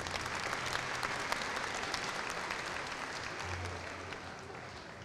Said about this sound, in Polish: Gorące brawa dla nich raz jeszcze.